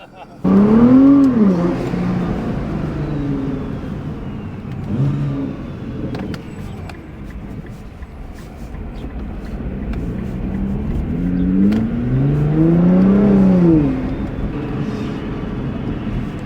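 A Nissan GT-R R35 fitted with an APR wing revs its engine in rising and falling swells, pulling away with two strong surges near the start and end of a steady mid-pitched drone, with speech occasionally heard over it.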